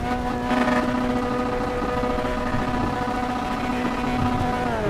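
Race car engines in a sim racing game hold a steady high-pitched drone at sustained revs, loud and continuous throughout, with no talking over it.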